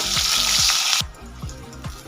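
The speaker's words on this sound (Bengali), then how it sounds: "বেগুনগুলো লাল করে ভেজে নেব" Eggplant slices seasoned with salt and turmeric fry in hot oil, a loud dense sizzle that suddenly drops to a quieter crackle, with rhythmic scraping stirs throughout.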